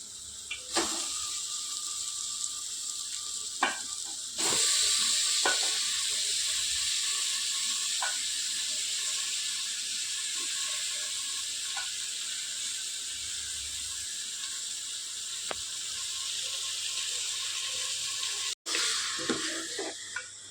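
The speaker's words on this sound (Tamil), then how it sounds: "3/4 கிலோ மட்டன் எடுத்து வச்சிருக்கிறேங்க. மட்டன் இப்போ அதில் சேர்த்திக்கலாங்க வதக்கிறதுக்கு." Three-quarters of a kilo of mutton sautéing in a pan for a Kongu-style mutton curry, giving a loud continuous sizzle and hiss with occasional stirring scrapes, close and without talk.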